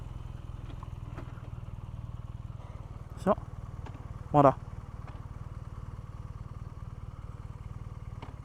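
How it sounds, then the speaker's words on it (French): An idling BMW R nineT Pure motorcycle, in its A2 version, throbs steadily, then its driveshaft lets out two sharp metallic clunks about a second apart. A voice speaks briefly over the engine. "C'est l'à-coup que va procurer le cardan."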